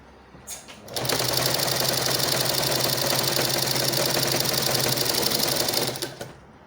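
A sewing machine stitches a corset cup in one continuous run of about five seconds, its rapid even whirring close and loud, starting and stopping abruptly with faint handling noise before and after.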